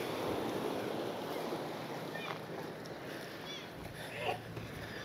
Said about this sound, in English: The way the water's just suddenly got really turbulent.